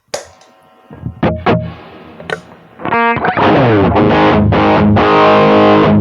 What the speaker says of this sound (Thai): เดี๋ยวลองฟังเสียงแตกดูนะครับ